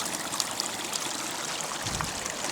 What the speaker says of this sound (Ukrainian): А тепер знову йдуть дощі, температура близька до плюс 10 і течуть струмки.